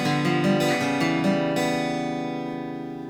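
An electric guitar plays a quick, bright riff, repeated notes ringing out with sustained chords that slowly fade at the end.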